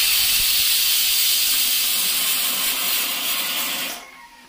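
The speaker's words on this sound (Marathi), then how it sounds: "तिकडे कुकरची शिट्टी झाली आहे" A pressure cooker whistle lets out a loud, continuous hiss of steam that holds for about four seconds, then cuts off sharply.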